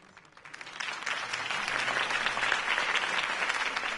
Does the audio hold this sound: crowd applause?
yes